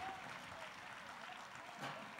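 An audience at a Haitian tribute event gives a short round of fairly faint applause, an even patter of many hands with a slight swell near the end.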